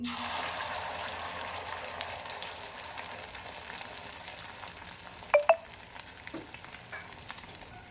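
An egg omelette spreads and fries in well-heated oil, giving a soft, steady sizzle that fades gently over several seconds, with a couple of sharp utensil clicks near the middle and no talking.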